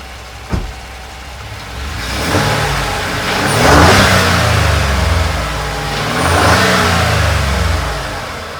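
A warm Ford 3.5 EcoBoost truck engine fitted with new CVFab intercooler piping, inlet tubes and an S&B intake revs up twice in swelling bursts after a brief click, loud and close with no talking.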